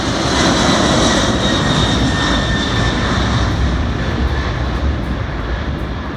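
A jet airliner takes off at the Boeing 787 plant near Seattle, its engine roar loud and steady with a broadband rumble and whine that eases slightly toward the end.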